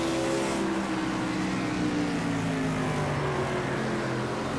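A NASCAR stock car engine in the racing game Project CARS 2 on the Sonoma layout, roaring steadily under heavy throttle with rising pitch as the car accelerates out of a corner, loud and continuous throughout.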